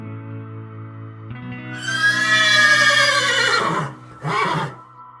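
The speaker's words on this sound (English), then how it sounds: "My horse squealed, reared, bucked, and pitched me headfirst onto a giant, yellow-flowered, prickly pear patch." A horse lets out a loud, drawn-out squealing whinny, followed by a shorter second squeal, over a steady low hum.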